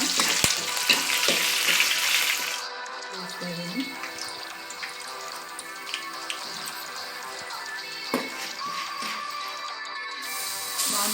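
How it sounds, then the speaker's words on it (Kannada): Green chillies frying in oil for mango rice, a loud initial sizzle that settles into a softer crackle, with a person talking over the cooking. "ಫ್ರೈ ಮಾಡ್ಕೊಳ್ಳೋಣ."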